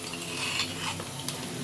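Ginger-garlic masala with turmeric sizzles in a pan while being stirred, with soft frying crackle and occasional scrape of a utensil over a short stretch, no talking.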